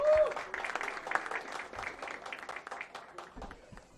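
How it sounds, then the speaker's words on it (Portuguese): Applause at a Brazilian Chamber of Deputies labour committee meeting, steady clapping from a seated audience lasting throughout, with some talking mixed in. "o qual eu peço uma salva de palmas por todos vocês"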